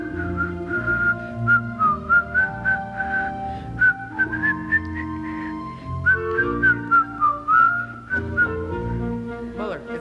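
A person whistles a cheerful, bouncy melody in clear sustained notes that rise and fall over steady orchestral accompaniment, close and prominent throughout.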